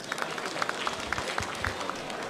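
Scattered clapping from guests at a wedding reception in Almaty, a steady patter of hands over a murmuring room, with a few sharper claps standing out.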